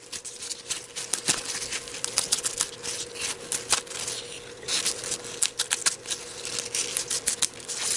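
Dry crackly rustling and a series of sharp tearing rips as the stem is torn out of a tobacco leaf, close up, with irregular bursts of crisp papery noise and no voices.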